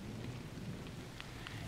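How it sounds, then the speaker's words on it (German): Cold rain drums steadily on the windows of a castle, a dense, continuous wash of patter with a low rumbling undertone and a few faint sharper drops, no voices. "halblinden Scheiben trommelt ein kalter Regen und schafft eine dumpfe Stimmung"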